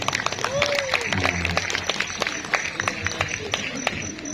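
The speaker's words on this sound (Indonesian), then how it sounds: "tepuk tangan deh untuk semua regu" An audience at a mosque quiz competition claps in a lively burst of applause, dense irregular hand claps mixed with crowd voices and a voice speaking over it.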